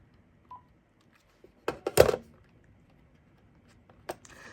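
A Uniden D1660 cordless phone emits a brief dialing tone amid sparse handling clicks and taps on the handset, all quiet and close.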